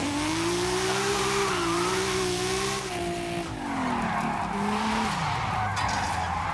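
A Lamborghini Huracán drifts in Forza Horizon 5, a sustained engine tone bending up and down under a steady, loud tire squeal that carries through the whole stretch without voices.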